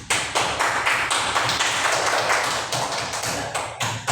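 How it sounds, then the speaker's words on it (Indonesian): Students in a classroom break into applause, a dense burst of close clapping with rhythmic surges that lasts about four seconds. "Tepuk tangan."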